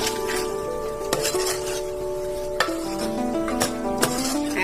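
Spices are stirred into misal gravy in a pot. Several sharp clinks of a spoon against metal punctuate a soft, continuous stirring, with faint ringing tones between the strikes.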